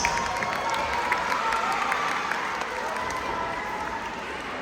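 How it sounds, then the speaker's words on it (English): An audience at a school quiz bowl competition cheers and applauds steadily, a dense wash of clapping with scattered shouts that holds for the whole stretch, fairly loud and unbroken. "Can you give them your loudest cheers and applause?"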